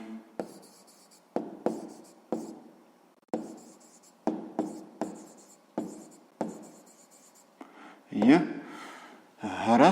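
A pen writes out a math answer on paper in a series of short scratchy strokes with brief pauses between them, close and clear, followed at the end by a couple of louder rustles or breaths.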